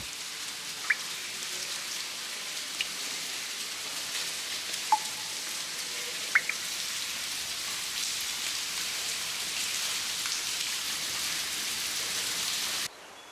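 Water from the fountain in Teruel's Plaza del Torico splashes in a steady, even rush throughout, with a few faint clicks, cutting off abruptly near the end.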